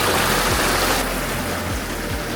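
Steady rushing stream water along an off-road trail, a continuous loud broadband wash with no pauses, close to the microphone.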